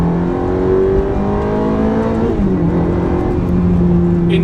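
Lamborghini Gallardo V10 supercar engine pulling steadily through gears of its electronic gearbox, a loud continuous drone with a pitch dip around a shift midway, heard up close from inside the car.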